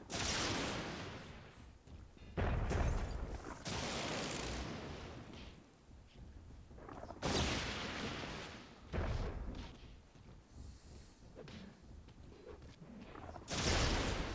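Explosions in the Myth II Soulblighter real-time strategy game, several separate heavy booms spread across the span with rumbling tails between them, loud against quieter battle noise.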